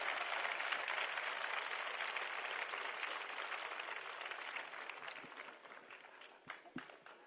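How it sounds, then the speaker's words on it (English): An amphitheatre audience applauds after a vocal and instrumental performance. The dense, crackling clapping is steady at first and slowly thins and fades, with a few last scattered claps trailing off. "Can we have another echoing applause for a young vocalist and instrumentalist for this"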